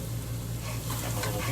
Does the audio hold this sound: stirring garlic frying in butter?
yes